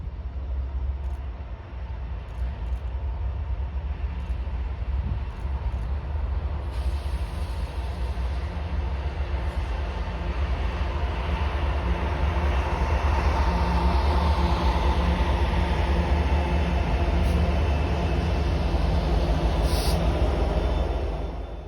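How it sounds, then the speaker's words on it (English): A Norfolk Southern SD70ACU and SD40-2 locomotive pair passes outdoors with a steady, loud low rumble and rolling wheel noise building over about twenty seconds, with faint high squeals. "The locomotives which you are seeing right now consist of a Norfolk Southern SD70 ACU and an SD40-2."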